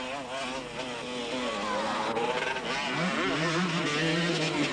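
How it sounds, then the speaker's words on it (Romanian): Yamaha motocross motorcycles racing at a 1996 Romanian national championship round, engines whining and revving with shifting pitch, fairly loud and steady, with a voice talking over them. "Valeriu Răileanu aleargă pe aceeași motocicletă Yamaha pe care a concurat și în sezonul trecut."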